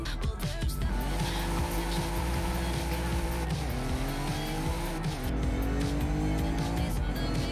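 A VR6 car engine in Forza Horizon 5 roars and shifts pitch through gears, with tire squeal and a constant loud rumble throughout.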